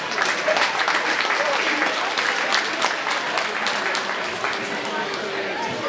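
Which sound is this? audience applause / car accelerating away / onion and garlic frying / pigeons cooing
audience applause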